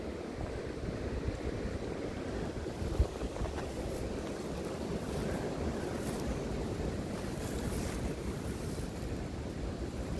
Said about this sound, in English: I know, like I said, I know there's wind.